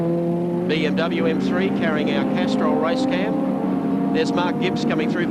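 The Benson and Hedges BMW M3 touring car races at Eastern Creek in the 1992 ATCC round, its engine droning and whining steadily under a commentator who talks throughout.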